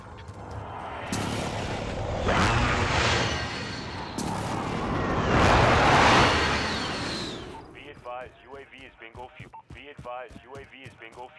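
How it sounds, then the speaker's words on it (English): Friendly precision airstrike explosions in a military video game thunder in a series of heavy, roaring blasts over several seconds, giving way to a crackling radio voice at the end. "Be advised, friendly precision airstrike inbound."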